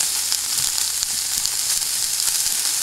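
A ham, egg and onion mix sautés in a pan preheated over medium heat, putting out a loud, continuous close sizzle with faint stirring crackles. No one speaks.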